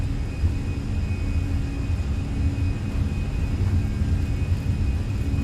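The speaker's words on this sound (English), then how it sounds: "Takeoff power set." Airbus A320 jet engines spooling at takeoff power in a flight simulator game, a steady, loud broadband roar with a deep low rumble and a faint high whine holding constant throughout.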